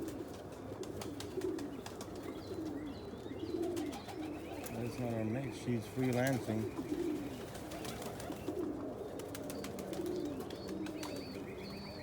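Blue bar homer pigeons, one crested, coo softly in a loft, with low repeated coos rising between bits of quiet conversation and faint background chirps.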